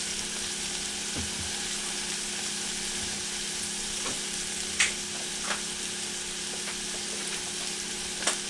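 Picadillo frying in a pan gives off a steady, close sizzling hiss that carries on without a break, with a few faint pops and clicks scattered through it and no voices.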